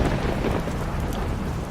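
Dense rain and a low rolling rumble of thunder fill a short, loud stretch of a storm, continuous and close with no voice over it.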